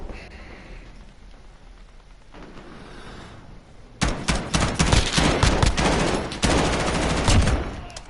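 Rapid automatic gunfire and explosive bursts from a large-scale Ground War match in Call of Duty: Modern Warfare, starting quietly and then erupting into loud, sustained shooting.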